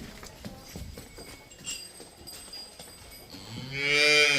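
A cow at a cattle farm moos loudly close by near the end, a long low harmonic call rising over scattered thuds and rustling farmyard noise.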